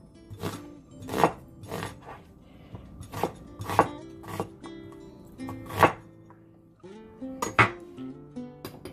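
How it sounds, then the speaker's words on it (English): A knife chops onion into thin slices on a cutting board, making a series of sharp knocks at irregular spacing, close and fairly clear, with no talking. "chopping the onion. Just make it thin slices."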